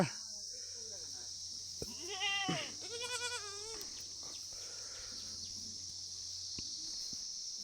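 A goat bleats in a few wavering calls while being herded along a village path in rural Nepal, near and fairly clear, with a person talking at times and insects chirring steadily throughout.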